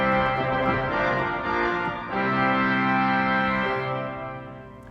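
Chancel pipe organ with its 4-foot octave stop added, sustaining bright chords with a rich stack of harmonics, changing once midway and fading gently, close and fairly loud with no speech.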